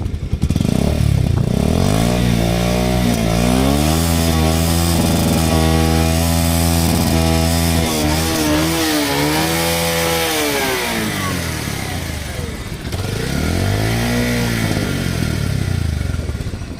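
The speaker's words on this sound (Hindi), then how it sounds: "आइए इसका आपको इंजन साउंड सुनाते हैं" A Bajaj Pulsar 150 motorcycle engine runs nearby with a loud exhaust note, revved up and down several times in rising and falling sweeps between idling stretches.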